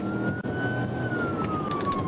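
A state trooper's police car siren wails in a long, slowly falling tone during a high-speed pursuit over road noise and engine rumble, steady and fairly close.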